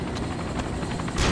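A helicopter in the military video game ArmA 2: Operation Arrowhead drones steadily with a low rotor rumble and broad engine wash, moderately loud and constant before a sudden surge of noise at the end.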